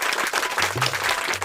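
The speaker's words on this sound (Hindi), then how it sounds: "आप सभी टॉप 5 कंटेस्टेंट के लिए एक बार तालियां तो बजनी चाहिए" A studio audience claps for the top five contestants at a reality-show finale, dense continuous applause throughout with a low voice murmuring briefly underneath.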